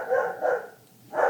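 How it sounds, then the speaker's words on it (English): Dogs bark indoors in three quick, mid-range woofs at moderate distance, with a short pause before the last bark and no talking. "Let me mute while my dogs are barking."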